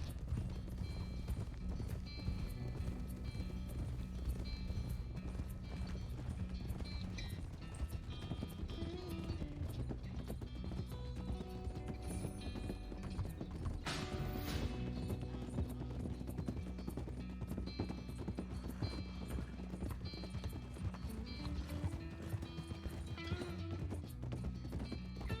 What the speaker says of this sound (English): It's just such a chunky, cute horse.